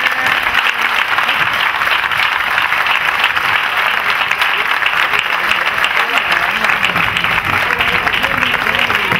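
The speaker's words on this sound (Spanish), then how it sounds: "Por favor, un fuerte aplauso para el señor Paco Barrilado" Strong, steady applause from a crowd at a public presentation in Serón, loud and continuous throughout without pause.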